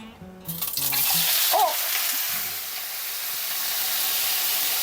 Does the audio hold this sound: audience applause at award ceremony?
no